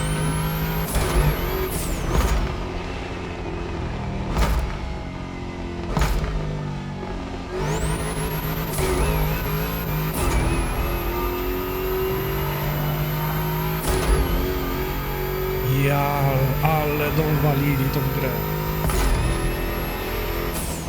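A video game car engine revs hard through repeated gear changes, loud and aggressive, with sharp upshifts and a brief muffled voice near the end.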